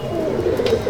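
A pigeon in a racing pigeon loft gives a soft, throaty coo, close and fairly loud, heard alone for under a second.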